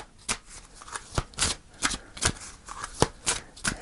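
Tarot cards are shuffled by hand close by, a rhythmic series of crisp riffling snaps and soft slaps that repeats about every half second with no voices over it.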